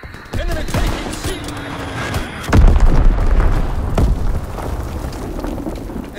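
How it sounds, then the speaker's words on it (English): Heavy bomb blasts in the Call of Duty WWII video game boom out amid gunfire, a loud deep impact followed by rumbling detonations and scattered shots, with a radio-style voice callout briefly underneath. "Enemy bomb incoming"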